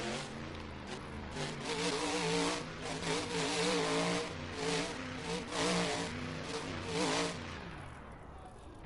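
A monster truck engine revs repeatedly in a Roblox monster truck game, loud rising and falling throttle bursts with a rough growl and possible tire noise, heard alone.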